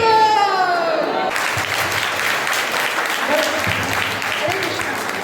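An audience at a Krishna Janmashtami drama in a class setting bursts into sustained, dense clapping that stays loud throughout, following a brief sung or spoken phrase at the start.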